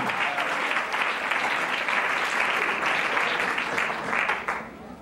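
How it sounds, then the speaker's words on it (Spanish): A church congregation bursts into lively applause during a sermon, a dense round of clapping that holds steady for several seconds then drops away. "Otro aplauso al que vive y reina"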